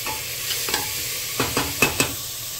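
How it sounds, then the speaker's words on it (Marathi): Tomatoes with garlic and ginger stirred in a frying pan, a few distinct scraping strokes of a spoon against the pan over a low, steady sizzle, close and moderately loud. "आता टोमॅटो मातशे मिक्स जावन दी सगळो जो गार्लिक जिंजर जे कितें घातला तितून"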